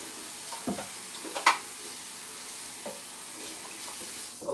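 A kitchen tap runs steadily while potatoes are rinsed, a soft continuous wash of water broken by a few faint knocks and splashes nearby.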